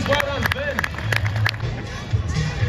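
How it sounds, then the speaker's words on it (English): A rodeo crowd at the Canterbury rodeo in New Zealand claps and cheers after a bull ride, scattered applause under an announcer's voice and crowd hubbub. "Round of applause, please"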